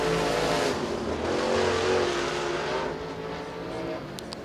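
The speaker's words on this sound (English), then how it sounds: "Behind him, John Owenby in car J0." A race car engine roars around Rome Speedway during qualifying, the loud, sustained drone rising and falling slightly as the car runs past, with no talk over it.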